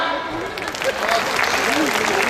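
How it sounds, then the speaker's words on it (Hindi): Audience applause at a comedy poetry gathering, a steady wash of clapping with a voice speaking over it. "आप सबको काम मिला ताली बजाने का, बजाओ।"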